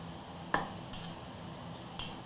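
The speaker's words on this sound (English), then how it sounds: "take the sausages, and then I will cut them in half" Three sharp metallic clicks of a knife and utensil against a pan or tray while sausages are cut in half, quiet and close, spaced irregularly.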